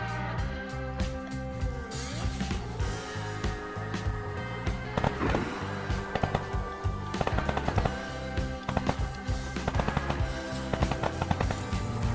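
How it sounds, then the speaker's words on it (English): Gunfire in the survival video game DayZ, with players taking pot shots: scattered sharp shots and short bursts crack out at irregular intervals over a low background rumble, some close and some more distant. "someone's fighting off infected, while the tower crew is taking pot shots"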